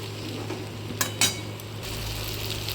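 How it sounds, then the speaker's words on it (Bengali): Taro stolons cooked with a little sugar get stirred in a pan, a quiet simmering hiss broken by two sharp metallic clinks of a utensil against the pan. "দিয়ে আরও 1 মিনিট ভালো করে নেড়ে ঢাকা দিয়ে রেখে দেবো"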